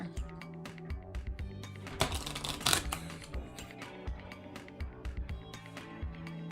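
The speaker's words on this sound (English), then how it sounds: "I'm gonna shuffle this a little bit more." A deck of cards is shuffled during a solo tabletop role-playing game, producing rapid, crisp riffling clicks and flutters, close and fairly quiet, with one denser burst in the middle.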